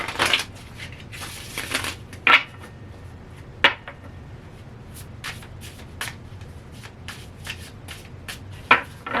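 Tarot cards being shuffled by hand in quiet surroundings: repeated soft riffling and flicking bursts at an uneven pace, with sharper snaps here and there.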